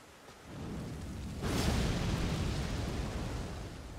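An Elden Ring Thunderstorm spell goes off in the game as a deep rumbling blast that rises abruptly into a sustained, roaring crackle and stays loud without voices.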